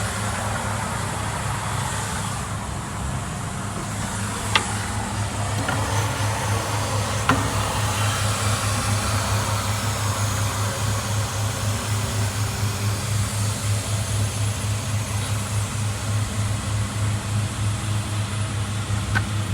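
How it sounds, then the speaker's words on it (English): A saw winds down after running, its steady motor hum and whir sustained close by and fairly loud, with a few faint clicks and no talk. "This thing actually saws like it's supposed to now."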